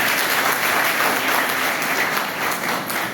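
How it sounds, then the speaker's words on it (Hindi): An audience at a formal gathering bursts into loud, sustained applause, a dense steady wash of many hands clapping that carries on throughout with only slight swells and dips. "जोरदार ताली"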